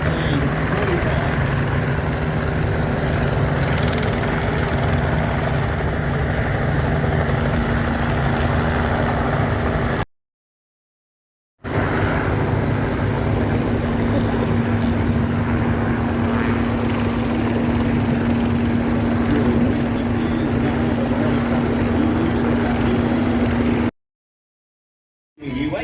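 A utility helicopter seating 15 people flies at the Warbirds over Wanaka airshow in 2026, a steady loud engine and rotor drone that persists throughout with a faint tonal hum, briefly cut out twice, while a commentator talks over it.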